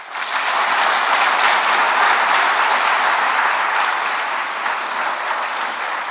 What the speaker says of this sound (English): I think everyone I've mentioned deserves a round of applause.